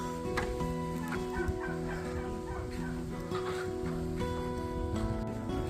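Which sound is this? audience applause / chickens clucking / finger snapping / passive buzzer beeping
chickens clucking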